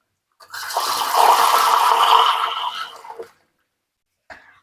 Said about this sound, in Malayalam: കുറച്ച് നമുക്ക് സാധാ വെള്ളം ഇത് കുറച്ച് വാഷ് ചെയ്യാം മൂന്ന് നാല് പ്രാവശ്യം